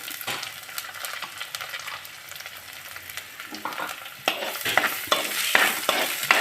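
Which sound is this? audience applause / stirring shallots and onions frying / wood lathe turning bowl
stirring shallots and onions frying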